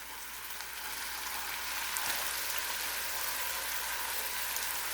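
Leeks cooking in oil and butter keep up a steady broadband sizzle as peppers and onions go into the pot, a dense hiss running throughout with a slight swell partway through and no talking.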